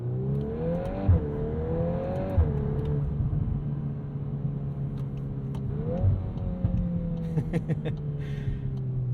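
A 2022 Volkswagen Golf R engine idles and revs with a deep burbling exhaust, loud and close, with sharp pops and crackles breaking through near the end.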